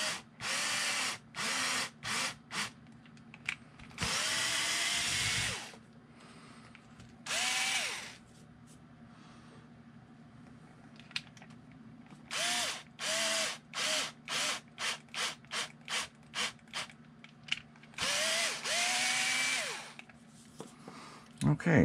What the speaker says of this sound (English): I'm just gonna pre-tap or pre-thread